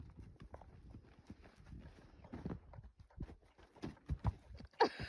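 A horse being trained with a dummy clip-clops nearby, its hooves striking in an irregular walking rhythm. The beats are soft and close, with a few sharper knocks toward the end.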